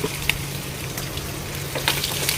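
Fish sizzling steadily as it fries in a pan of hot oil, with a continuous crackle and occasional sharper pops, close by and with no voices.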